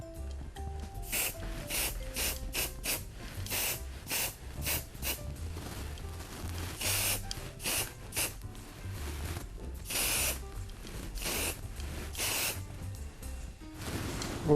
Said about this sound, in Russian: для этого у нас есть зеленый спрей